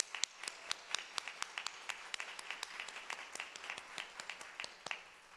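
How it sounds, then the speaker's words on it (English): An audience applauds at a teacher pinning ceremony for graduating education students, with steady, moderately distant clapping from many hands that continues throughout without voices. "I want you to give yourselves another round of applause."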